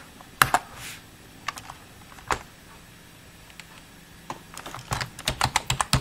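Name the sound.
typing on a computer keyboard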